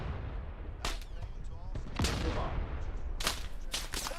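Gunfire in the military video game Arma, with sharp cracking shots in irregular bursts and a few clustered volleys over a rumbling background, while voices murmur underneath.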